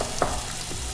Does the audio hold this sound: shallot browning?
yes